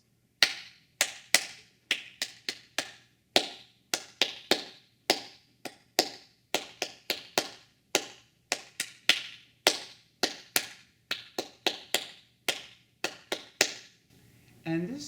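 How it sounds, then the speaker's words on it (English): A group claps a rhythm pattern in an Orff music lesson, with sharp, crisp claps in short-long groupings repeated several times, close and clear against near silence, and a faint voice briefly at the end. "Why don't you clap it with me 3 times?"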